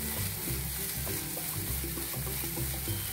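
Khawa (milk solids) being sautéed in a pan, a soft frying sizzle under steady, rhythmic scraping and stirring strokes that repeat about twice per second.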